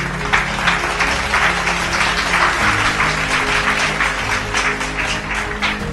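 A church congregation at a French-language service applauds for Jesus, with steady, dense clapping that carries through the whole stretch over a low sustained musical tone.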